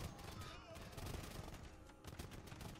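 Musketeer volley fire in the Age of Empires II video game battle, a crackle of repeated overlapping gunshots in uneven bursts at a moderate distance, with commentary talking over it.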